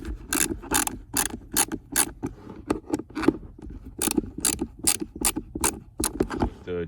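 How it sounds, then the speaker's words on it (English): Rapid ratcheting clicks from a screwdriver backing out two screws on a 2006 Toyota Sienna glove box, close and crisp in dense bursts with brief pauses between. "So to replace this, it's just removing these two screws."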